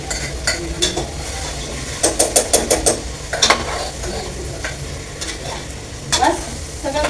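Biryani masala frying in a pan on a gas stove, a spoon scraping and stirring in bursts of clattering strokes over a soft, steady sizzle.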